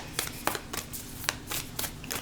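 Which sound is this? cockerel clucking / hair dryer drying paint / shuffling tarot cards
shuffling tarot cards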